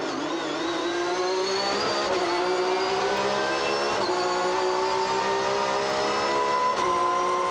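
A Porsche GT3 Cup race car lapping a circuit, its engine a loud, continuous high-pitched wail that rises and dips with gear changes through bumpy corners, heard close and steady throughout.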